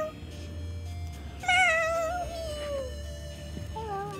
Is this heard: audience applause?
no